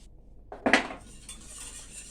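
A spoon stirs béchamel sauce in a pot, giving one sharp metallic clink against the side, then a soft, steady scraping and hiss. The sound is close, with no voices.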